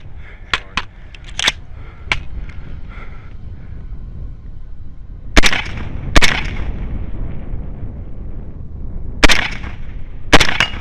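Gunshots ring out at a night vision run-and-gun biathlon, sharp isolated cracks spaced irregularly, a quick cluster early on and then single or paired shots several seconds apart, loud and close over outdoor background noise.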